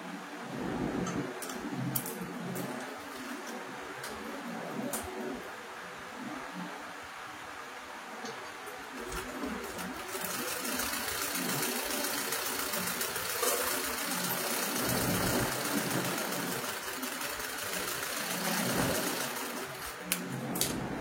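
A sewing machine stitching pieces of cloth together for semi-patti pants, running with a fast, even mechanical whir and ticking that carries on steadily throughout.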